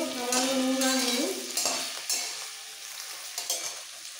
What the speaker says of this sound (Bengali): সব আলু দিয়ে দেওয়ার পর তেলের মধ্যে একটু নাড়াচাড়া করে দিয়ে দেবো সামান্য নুন আর হলুদ।